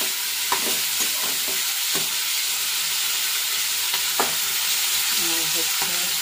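Vegetables frying in a pan produce a steady loud sizzle, overlaid with several distinct clacks of a spatula stirring against the pan, close up and with no voices.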